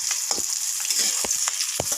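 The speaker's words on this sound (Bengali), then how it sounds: "পটল ভাজাটা হয়ে আসছে" Pointed gourd (potol) frying in oil in a wok, a constant sizzling hiss broken by short stirring clacks and scrapes, close up with no talking.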